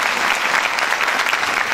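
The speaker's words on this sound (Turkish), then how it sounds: "alkışlarınızı." An audience at a Turkish classical music ensemble concert claps steadily, a dense, even wash of many hands close by, with no cheering or speech on top.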